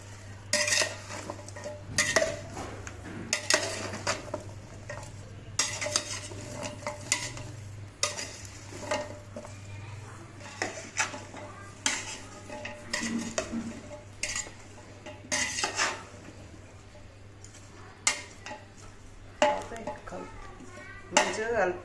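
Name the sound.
mixing ginger garlic pickle with oil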